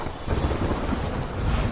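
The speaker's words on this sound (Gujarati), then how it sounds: "સુરતમાં શહેરના અનેક વિસ્તારોમાં ધોધમાર વરસાદ" Heavy downpour in Surat, a dense roar of rain with a low thunder rumble underneath, loud and continuous over a brief stretch.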